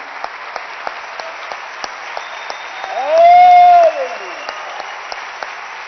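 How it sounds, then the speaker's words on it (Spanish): A church congregation claps together in steady, sustained applause that fills the space, with a brief louder cheer or whistle rising out of it midway. "Le damos palmas al Señor en esta noche."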